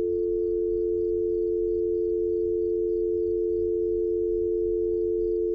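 A steady telephone dial tone drones from a broken phone in the horror game Fears to Fathom: Norwood Hitchhike, one unbroken pitch held loud and even the whole time with no talk.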